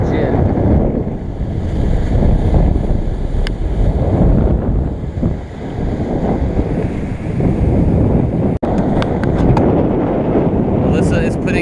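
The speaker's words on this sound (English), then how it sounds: "Surfing in 20 knots of wind" Strong wind roaring across the microphone and waves rushing past a sailboat surfing in 20 knots of wind on passage from New Zealand to Fiji, a loud continuous wash with a few faint knocks near the end.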